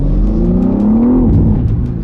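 A BMW M3 Touring's engine pulls hard under acceleration in its rear-wheel-drive M2 mode, a loud, close, rising growl that climbs in pitch, briefly drops as it shifts, and keeps pulling.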